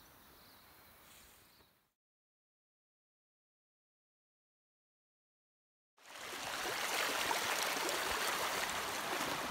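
Steady rushing of flowing creek water, broken by a few seconds of silence before returning louder and continuous.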